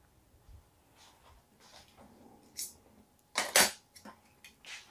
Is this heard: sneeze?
no